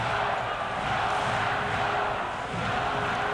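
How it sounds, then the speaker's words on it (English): Montreal Forum crowd roaring steadily after a Canadiens goal in a 1987 playoff hockey game against the Quebec Nordiques, a broad distant-sounding wash of cheering with no break. "The crowd is in full cry here at the Montreal Forum after the goal by Ryan Walter"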